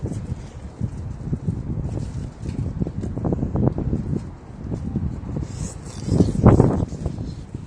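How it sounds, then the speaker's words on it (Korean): Strong cold wind gusts outdoors near the Han River in winter, buffeting the microphone with a continuous rough roar that swells at times and peaks loudly near the end. "바람이 너무 많이 불어"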